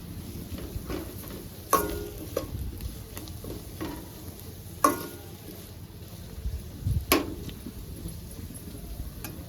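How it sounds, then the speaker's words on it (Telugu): Freshly pounded masala spices fry on a low flame for mutton liver gravy, with a soft continuous sizzle under sharp scrapes and clinks of a utensil stirring the pan every second or two, no voices. "ఇప్పుడు దంచి పెట్టుకున్న ఈ మసాలాలు వేసుకుంటుండా వేసుకొని బాగా ఫ్రై చేసుకోవాలి"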